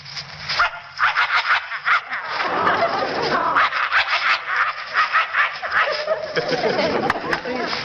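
A voice imitates a vicious dog, snarling, growling and barking in rough bursts, loud and close, with a crowd murmuring faintly under it in a studio before an audience.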